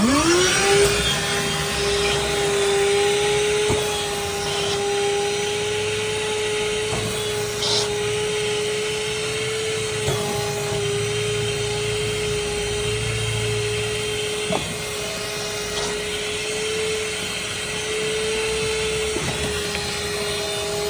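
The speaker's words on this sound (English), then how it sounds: "Let's go ahead and try to vacuum this thing out and see if we can get it flowing" A steady, loud vacuum motor drones with a constant whine, with occasional knocks and gurgling bursts as suction pulls through a clogged ductless mini split drain line leaking water indoors.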